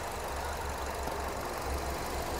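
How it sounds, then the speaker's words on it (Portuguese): Honda Civic engine idles smoothly during a full service check, a steady, even rumble with a faint regular pulse, close and continuous without talk. "o motor tá funcionando sereninho"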